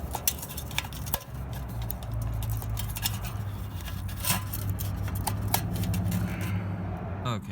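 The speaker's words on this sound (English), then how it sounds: "Shears." Metal shears snip at a go-kart's pull-start rope, making a run of sharp clicks and snaps close by over low background rumble and some faint handling noise.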